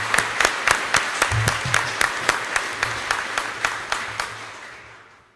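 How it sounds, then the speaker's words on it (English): An audience at a firefighter recruit class graduation applauds in a steady wash of clapping, with a few sharp individual claps standing out, and the sound fades away at the end. "So I think it's appropriate for us to give them one more round of applause,"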